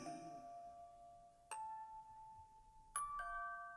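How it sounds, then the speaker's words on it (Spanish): A school bell rings out in clear single chimes, one early tone followed by two more about a second apart, each ringing on with a long fading tail against a quiet background. "La campana había sonado"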